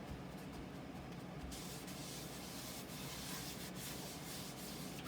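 Olive oil being rubbed by hand over the bottom of a cast iron Dutch oven, a steady, close, continuous soft rubbing and swishing texture with no talking.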